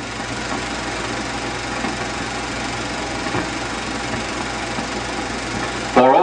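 An Allis-Chalmers tractor engine runs steadily with a constant low chugging drone, loud and close, ending with a sharp clunk at the very end.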